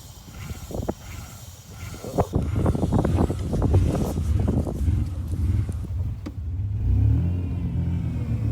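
A cheap, aging Ford Aerostar van's engine runs and revs while driving away from an auction lot, a close, rumbling mid-pitched drone with repeated throttle surges and rattles, steady road noise underneath.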